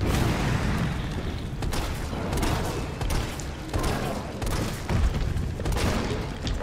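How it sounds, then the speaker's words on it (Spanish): Shotgun blasts in Resident Evil, a handful of heavy booming shots spaced a second or so apart, loud and close over a dense rumbling game background. "Vamos a darle con escopeta."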